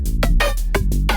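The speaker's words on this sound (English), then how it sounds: "you can put some flange in there" A Phase Plant synth plays a repeating phrase of bright chord stabs with a sweeping, swirling flanger effect over a steady low bass, no voices.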